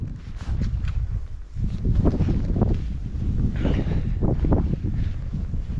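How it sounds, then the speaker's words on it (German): An icy wind rushes and buffets the microphone at high altitude in La Rinconada, Peru, producing a loud, continuous low roar with gusty surges throughout. "dieser eisige Wind, der ist unglaublich"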